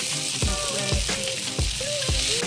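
Crab fries with sour leaves in a pan, giving a loud, constant sizzle broken by regular scraping strokes of a stirring utensil.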